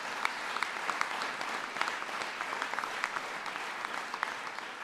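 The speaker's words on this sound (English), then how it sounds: "so you can clap for that." An audience claps at a presidential jobs announcement, a steady, moderately distant patter of many hands with a few sharper individual claps standing out, continuing evenly without any talk over it.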